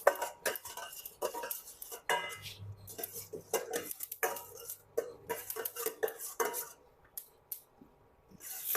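Mustard seeds and dal stirred in hot oil, a busy run of metal ladle scrapes and clinks against the pan, close and irregular, with brief pauses between strokes.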